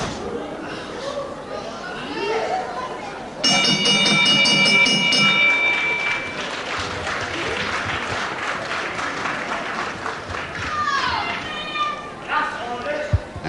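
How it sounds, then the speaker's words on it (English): The round bell at a televised professional wrestling match rings loudly and steadily for about two seconds over crowd applause and cheering, while a commentator keeps talking. "But the bell could save him here."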